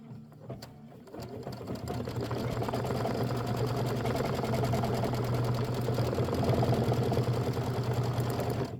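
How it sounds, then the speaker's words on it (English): Sewing machine running a placement stitch on a quilt: a brief start, then a steady, close, continuous mechanical whirr and needle chatter that holds for several seconds without a break. "let's go ahead and just stitch it. And this is going to be your placement stitch"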